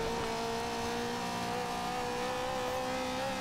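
A Ferrari drives through a town in the racing game Forza Horizon 2, its engine a steady, sustained drone that holds pitch throughout, fairly quiet with no talk.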